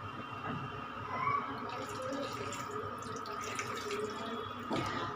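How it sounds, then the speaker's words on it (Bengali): Hot water is poured into a cooking pot while making dhokar dalna, a steady liquid pouring and splashing sound running continuously at moderate level, alone without talk. "এবার আমি গরম জলটা দিয়ে দিচ্ছি, আর একটু দেবো জল।"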